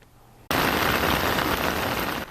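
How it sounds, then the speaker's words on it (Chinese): Heavy rain pours down on flooded vegetable fields of sweet potato leaves and water spinach in Yunlin, starting abruptly after a quiet moment and continuing as a loud, dense, steady hiss. "雨有够大"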